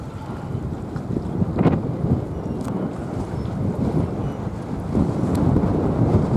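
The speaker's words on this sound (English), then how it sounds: "There's a very brisk wind today, and it's cold out here." Steady gusting wind buffets the microphone at a cold harbor where lobster boats are docked in Bar Harbor, Maine, a continuous loud roar with no voices.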